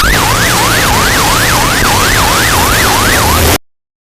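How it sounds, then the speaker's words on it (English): A loud, close emergency alert siren wails in a fast regular rise-and-fall sweep about three times a second over a harsh noisy bed, then cuts off abruptly. "If you are in an area getting this alert or getting the sirens, you are in a danger zone."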